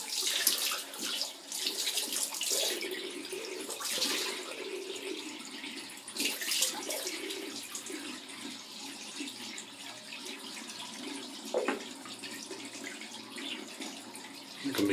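Tap water running steadily from a faucet while warming up for a shave, a continuous hiss and splash with slight fluctuations, close and moderately loud, with no voices over it.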